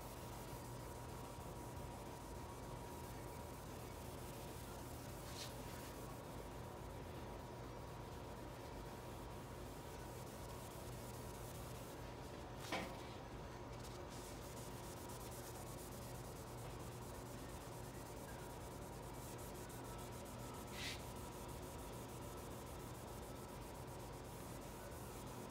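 Wet sanding of 2K clear coat over Krylon paint on a speaker enclosure with 3000-grit paper, a soft continuous rubbing hiss at close range with a few faint sharper scuffs, quiet and unbroken by speech.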